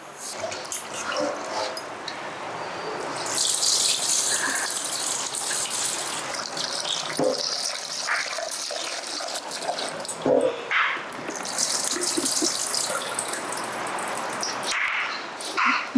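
Running water splashes and gushes steadily as lentils and millet are rinsed, with brief pauses and sloshing bursts.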